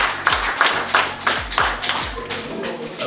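Audience at a karate belt ceremony clapping in unison for young competitors, a loud, regular rhythmic beat of synchronized claps, about three per second, close by.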